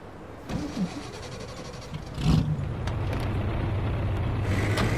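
A car engine starts in The Saboteur video game: a click and crank, then a catch and a steady, low idle rumble that carries on alone to the end.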